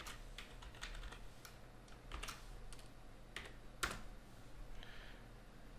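MATLAB commands are typed on a computer keyboard, with a quiet, irregular run of close keystrokes and one sharper key tap near the end, with no voices.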